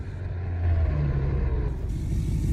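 A loud truck in a cow-farming video game rumbles close by with a low, throbbing engine drone that rises briefly in pitch and then settles, with no talk over it.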